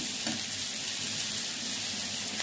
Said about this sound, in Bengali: ফ্রাইটা করছি, ভালো করে ভেজে নিচ্ছি।